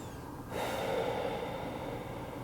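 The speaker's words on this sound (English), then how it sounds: "let's take 3 slow breaths here." A slow, deep breath during a morning yoga practice: after brief quiet, a steady airy inhale and exhale swells close to the microphone and holds for about two seconds, with no talking.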